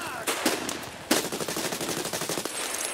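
Automatic weapon fire in the shooter game Escape from Tarkov, rapid sharp bursts with two heavy reports standing out, loud and close over a dense rattling stream of shots.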